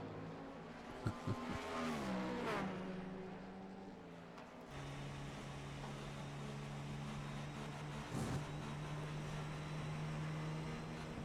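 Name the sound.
Cadillac race car engine on-board, throttle modulation into corners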